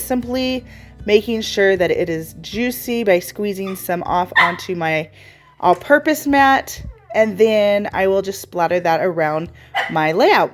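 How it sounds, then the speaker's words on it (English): A dog barks and yips repeatedly in a home scrapbooking room, the sharp barks overlapping someone talking throughout. "Sorry about the dog."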